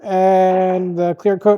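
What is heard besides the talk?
No everyday noises stand out.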